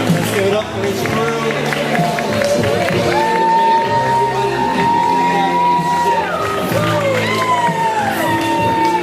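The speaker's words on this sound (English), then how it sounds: "Let's give it up for his crew." A crowd cheers, whoops and applauds for the grand prize-winning chef's crew at a Claw Down 2013 cooking competition, a loud sustained roar with shouts and whistles rising above it.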